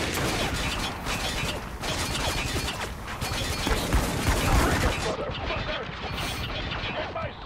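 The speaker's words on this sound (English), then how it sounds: "Need suppressor fire ASAP!" Heavy, continuous suppressing gunfire in the war shooter Spec Ops: The Line, dense overlapping shots and booms that fill the scene without pause before thinning out near the end, with shouted voices mixed in.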